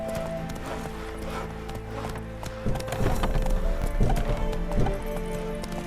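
A horse gallops in The Witcher 3 game, rhythmic hoof clip-clops thudding close and growing louder over a steady background of game ambience.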